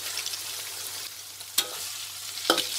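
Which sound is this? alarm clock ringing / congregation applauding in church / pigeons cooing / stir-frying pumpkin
stir-frying pumpkin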